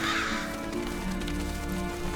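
Black scavenger birds caw from a video game scene, harsh crow-like calls repeated over a steady layer of game ambience, moderately loud and close.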